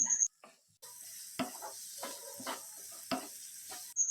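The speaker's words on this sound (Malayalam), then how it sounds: "ഇനി തുടരെ ഇളക്കി നമുക്ക് ഈ സവാള ഒന്ന് വഴറ്റിയെടുക്കാം" Sliced onion with ginger and garlic stirred and sautéing in a pan, a low sizzle with several distinct scraping strokes of a spoon spaced through the clip, fairly quiet, with no talk.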